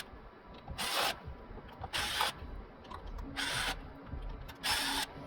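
A power drill with a 2.5 bit whirs in four short bursts with pauses between, close by, while screws are backed out of a 3ntr A2/A4 3D printer's LCD screen panel amid light background noise.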